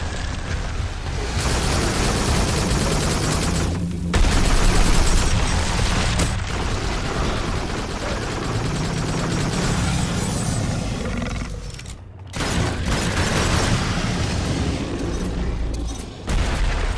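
Laser guided rocket explosions in the Farpoint VR shooter, loud rumbling blasts and roaring creature noise filling the whole stretch, with brief drops between bursts.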